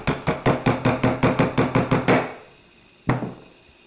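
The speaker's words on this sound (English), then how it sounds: "I first remove the hammer pin and leave the punch in place." A hammer taps a steel punch to drive the hammer pin out of a Norinco 213 pistol, about a dozen quick, evenly spaced metallic knocks, then a pause and one sharper strike.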